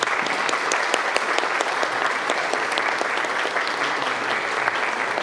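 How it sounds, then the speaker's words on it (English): A crowd gives the staff steady, dense applause at the dedication ceremony for the William H. Scheide House. The clapping is even and sustained throughout, with no break and no voices. "So would you please give my staff a round of applause?"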